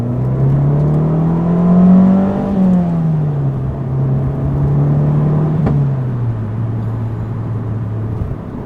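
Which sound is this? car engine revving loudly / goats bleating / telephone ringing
car engine revving loudly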